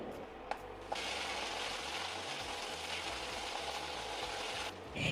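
Green chilies and curry leaves hiss in hot tempering oil for mango rice, a loud steady sizzle running nearly unbroken from start to finish after a couple of brief clinks.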